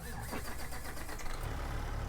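A Peterbilt 389 truck engine in American Truck Simulator rumbles at a low idle, then revs briefly and settles back into a steady, throaty drone, close and continuous with no talking.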